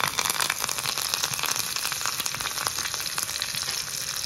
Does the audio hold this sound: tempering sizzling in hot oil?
yes